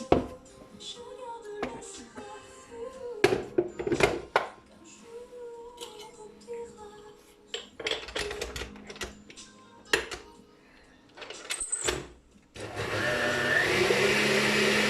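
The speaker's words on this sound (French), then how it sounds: "Donc je vais battre les blancs maintenant." An electric mixer beats egg whites in a home kitchen, coming in short, loud whirring bursts broken up by clatter and handling noises, and then running steadily and continuously at the end.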